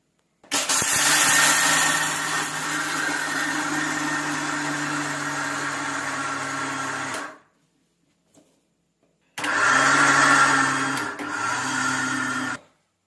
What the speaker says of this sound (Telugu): లాచిన తర్వాత సోంపు ఇలాంచి మిక్సీ పట్టుకోవాలి